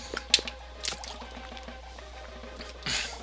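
A person sips and swallows water during pauses in a conversation, producing faint, intermittent wet gulps and small liquid drips close to the mic against a quiet background.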